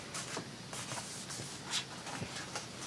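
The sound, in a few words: bone folder creasing paper for a collage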